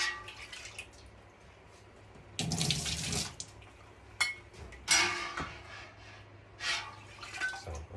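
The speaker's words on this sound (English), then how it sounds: "we'll try to cool this down with putting some of this distilled water in it" Distilled water is poured into a pot of cheese curds and whey while making Gouda, giving splashy running-water bursts around the middle and end over a low steady hum, with no talk.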